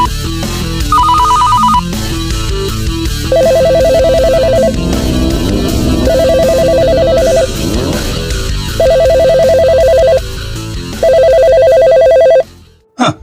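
A telephone rings unanswered in an animated drama, repeated electronic ring bursts in a regular on-off pattern over a busy musical score, loud and close, cutting off abruptly at the end.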